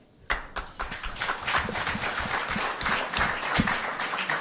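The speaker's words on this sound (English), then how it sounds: "So I'm going to ask you to give them a round of applause." An audience in a high school arts event starts clapping abruptly, a few distinct near claps at first, then swelling into a fuller, steady round of applause.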